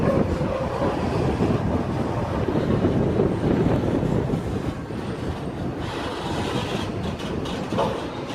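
A T8 passenger train runs back toward Cringila with a steady, loud rolling rumble and faint clickety-clack of wheels on rail, under wind noise, easing slightly midway.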